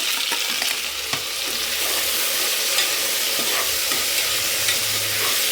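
Chopped tomatoes fry with onions in a pan, a continuous close sizzle broken by repeated scraping clicks as the mixture is stirred, with no talk.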